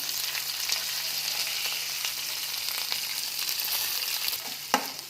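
Chopped capsicum and onion sizzle steadily in a hot pan, a dense continuous frying hiss with faint stirring scrapes and a brief utensil knock near the end.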